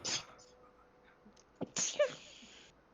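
One person sneezes sharply at the start, close to the microphone, followed by faint scattered rustles and a few brief sharp noises in a quiet room.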